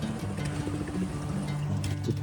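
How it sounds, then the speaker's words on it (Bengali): A boat moves along the fast-flowing Sangu river near Thanchi, its steady engine drone and low rumble mixing with water and wind noise throughout. "উত্তাল খরস্রোতা সাঙ্গুর বুকে আমাদের নৌকা যতই এগুচ্ছে"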